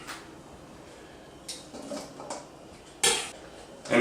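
Crab cake ingredients dropped into a mixing bowl for pan-seared crab cakes, giving soft clinks and knocks against the bowl, with a sharper clatter near the end, quiet and close with no talking.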